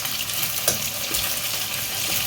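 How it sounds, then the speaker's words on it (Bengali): Beaten egg scrambles and fries in a hot pan, giving a continuous close sizzle with a brief clatter of stirring partway through and no voices. "এই ডিমের একটু ঝুরি করে নিচ্ছি"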